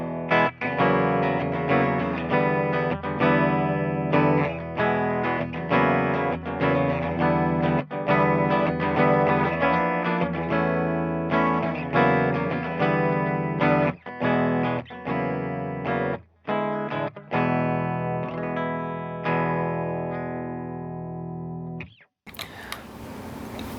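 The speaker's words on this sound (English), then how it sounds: "So let's go ahead and hear the clean channel on the Rocker 30 next" Electric guitar through an Orange Rocker 30 amp on its clean channel, playing a continuous run of chords and picked notes for over twenty seconds, loud and up close, ringing out and then cutting off near the end.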